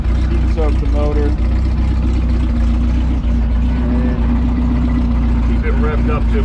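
Formula Ford race car engine warming up at a steady rev around 2000 rpm to heat soak the motor, a loud continuous drone close by, with voices talking over it.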